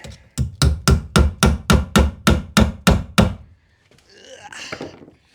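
Hammering a nail into wall framing for an off-grid solar shed, about eleven loud, close, evenly spaced hammer blows in a steady rhythm, followed by a brief quieter rustle.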